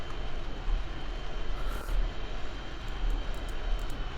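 Steady, loud roar of a game aircraft engine held at full throttle in Kerbal Space Program, a continuous broadband drone with no break and no voices.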